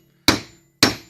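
A solid steel block strikes twice to tap a tight part into place while a Western plow is rebuilt, giving two sharp, close metallic knocks about half a second apart, each ringing briefly and then decaying.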